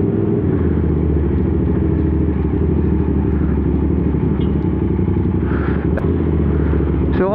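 Steady loud engine drone of a 450 SR motorcycle under way, a continuous throaty rumble with engine harmonics and no pauses, close to the rider and alone without talk.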